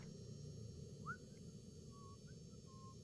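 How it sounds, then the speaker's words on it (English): Someone whistles faintly in a quiet office, a few short rising and sustained notes drifting in from a distance. "You guys just hear someone whistling?"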